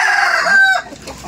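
A rooster crows loudly and close by in one drawn-out, strained call that breaks off abruptly, followed by a brief moment of quieter background sound.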